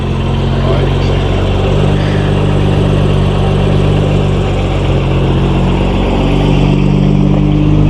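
BMW M5 F90 engine idling close by with a loud, steady low rumble and constant hum, no revving, while voices talk faintly under it.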